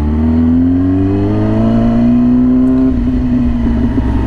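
A loud, deep Yamaha R6 sport motorcycle exhaust idles steadily up close, a constant throaty rumble with a slight rise in pitch toward the end.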